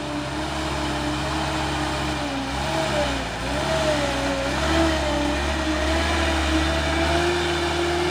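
A 6x2 expedition truck from Kalimantan revs its engine at close range, a loud, continuous mid-pitched roar whose pitch rises and dips repeatedly over about eight seconds, with no talk over it.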